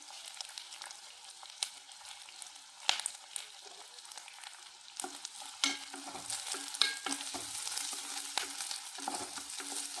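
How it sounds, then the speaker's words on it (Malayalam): Onion, curry leaves, garlic and green chili fry in a pan for a beetroot stir-fry, with a steady soft sizzle and crackle broken by scraping stirs and occasional clinks of the spoon, nearby and without talk. "ഇനി നമുക്ക് സവാള, കുറച്ച് കറിവേപ്പിലയും കൂടി ഇട്ട് കൊടുക്കാം"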